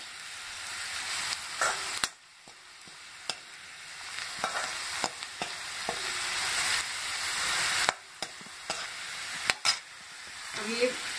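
Onions hiss and crackle as they brown in hot oil for veg dum biryani, a close, steady sizzle interrupted by repeated sharp scrapes and taps of a spoon against the pan, with no talking.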